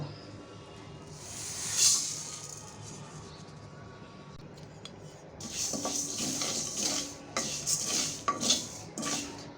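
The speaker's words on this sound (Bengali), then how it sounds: "এখন আমি এই মশলাটা ফার্স্টে" Whole coriander, panch phoron, cumin, dried chili and white mustard seeds dry-roasting in a pan for mango pickle, with clinks and scrapes of a spoon against metal and soft rustling hiss, louder bursts of stirring toward the end.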